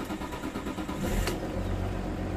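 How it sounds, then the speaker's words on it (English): A 2002 Audi A6 engine cranks and catches partway through, settling into a steady low idle rumble close to the microphone, with no one speaking. "Let me start the engine."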